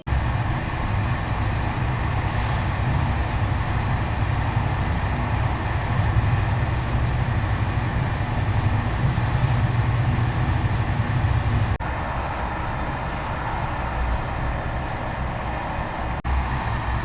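A train carriage heading to the Walibi Rhône-Alpes park in France rumbles steadily with a low droning roll, broken by a couple of faint clunks near the end.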